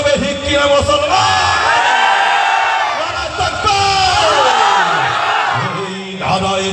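A large crowd shouts the Nara-e-Takbir Allahu Akbar slogan at a rally, loud massed voices bellowing and whooping continuously, rising in swells of chanting that fill the whole stretch.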